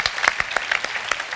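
A conference audience at the Positive Economy Forum in Le Havre gives the translator a brief burst of applause, dense clapping close by and without speech.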